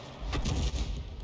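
An AMX 13 105 tank cannon fires once in World of Tanks, a single heavy, close boom that hits sharply and then rumbles briefly away.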